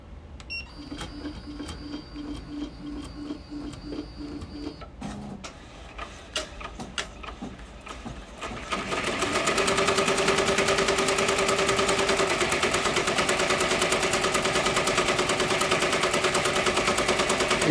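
A hat embroidery machine stitching the back of a cap starts with a few scattered clicks and beeps, then settles into a loud, rapid, continuous mechanical chatter of needle strokes that runs steadily to the end.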